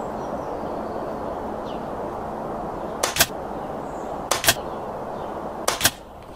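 Three pairs of sharp, close air rifle shots from a Wolverine R Forester in a backyard test ring out at even intervals over a quiet outdoor hum, each pair a crack and a quick follow-up snap.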